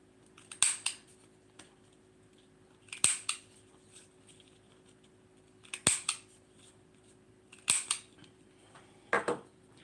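Scissors snip through paper for handmade card making, five separate sharp cuts spaced roughly two seconds apart, close and crisp against a quiet background with no talking.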